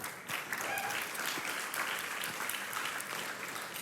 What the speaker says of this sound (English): And you can clap for that.